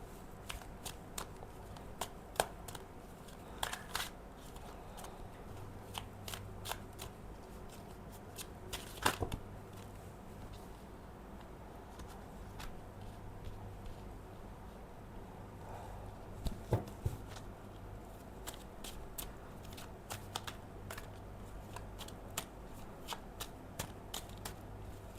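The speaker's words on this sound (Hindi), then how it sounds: "अगर आपको ये शफलिंग देखना अच्छा नहीं लगता है तो थोड़ा टैप टैप करके आगे जा सकते हो।" Tarot cards are shuffled by hand over a long stretch: soft continuous riffling and sliding with scattered sharper snaps, quiet and close, with no voices.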